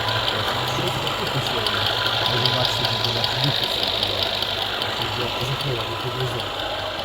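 A 2020 Jeep Cherokee 2.0 T-GDI engine running steadily on LPG, a close, even idle hum with faint ticking, while someone talks over it.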